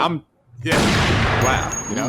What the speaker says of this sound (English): here's the appropriate gunshot whenever there's a 10